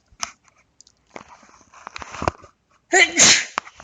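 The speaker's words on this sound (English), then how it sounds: "I'm going to sneeze." A single loud sneeze bursts out after some faint clicks and rustling nearby, close to the listener.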